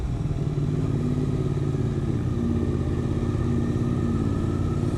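Suzuki GSX-8S motorcycle engine droning steadily while riding the winding mountain road to Cilaos on Réunion, a close, even hum with rising pitch as the bike accelerates.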